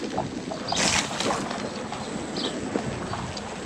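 A Begode EXN electric unicycle wheel, mudguard removed, rolls through a puddle with a rushing splash that swells and fades, steady broadband noise with wind buffeting over it, no voices.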